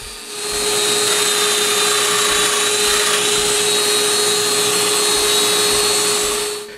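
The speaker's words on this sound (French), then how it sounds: "je perce un trou pour un domino" Domino joiner boring a mortise into the end of a wooden bedside-table rail, a loud steady high-pitched motor whine with a strong tonal hum, starting up and winding down over several seconds.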